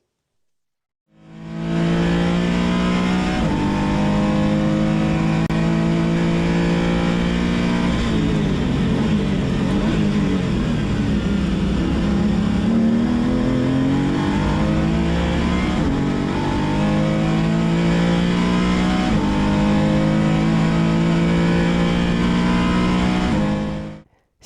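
A race car accelerates hard at full throttle out of a corner onto the straight at Spa-Francorchamps, its engine note climbing loud and close through repeated upshifts for over twenty seconds with no talking.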